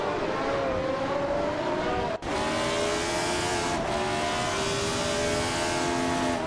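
Race cars speed around Autodromo Riccardo Paletti in a racing video game, engines droning loudly and continuously at high revs for the whole stretch, with pitch holding steady and a brief gearshift dip partway through.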